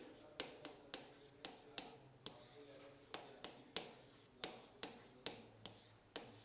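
Chalk or marker writing on a classroom board while light-ray angles are explained, a steady run of sharp taps and short scratchy strokes, close and fairly quiet, with a faint voice in the background.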